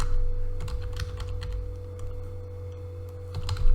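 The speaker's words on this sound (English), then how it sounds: "Let's type the property" Rapid typing on a computer keyboard, with bursts of keystroke clicks over a steady low electrical hum, close and fairly quiet, with no talk.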